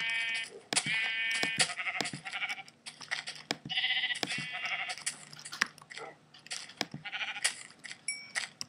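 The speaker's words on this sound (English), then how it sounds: "There's a sheep stuck in a tree." Repeated nasal bleats from Minecraft sheep come in quick, loud succession, several animals calling close by, with brief clicks between them and no speech.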